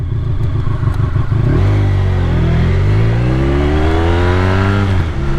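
A Honda VFR1200F fitted with an Akrapovic slip-on exhaust revs hard, its loud, close engine note climbing steadily in pitch for several seconds before dropping off abruptly, with no voices.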